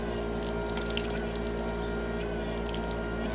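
Water sloshes from a small bucket, splashing and running continuously over a steady low hum, with small spattering bursts throughout.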